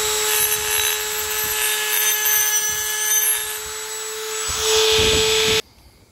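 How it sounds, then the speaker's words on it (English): Dremel rotary tool grinding along the edge of a Bosch ATX Rapid 2000, a steady high whine with scraping contact that rises near the end, then cuts off abruptly. "So I've just used a Dremel."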